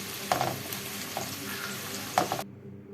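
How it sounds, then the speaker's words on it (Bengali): Garlic, onion and green chili sizzle steadily in a hot pan, with a couple of sharp spatula scrapes and clinks against the pan before the frying noise cuts off abruptly near the end. "এই সবগুলো উপকরণ কিন্তু আমি একসাথে করে ভালো করে ভেজে নিব।"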